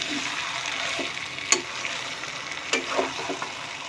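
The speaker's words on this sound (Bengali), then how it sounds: "এখানে ভালো করে মাংসটা কষিয়ে নিতে হবে।" Chicken pieces sautéed for curry give a steady close sizzle, with a few sharp clinks of a stirring spoon against the pan.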